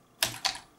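Three crisp keystrokes on a computer keyboard hooked up to a Raspberry Pi, close and clear, spaced unevenly over under a second with nothing else around them.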